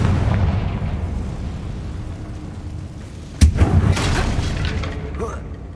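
A Confringo fire spell explodes in Hogwarts Legacy on PS5, a sudden booming blast midway followed by a few crackling bursts, over a steady rumbling game background.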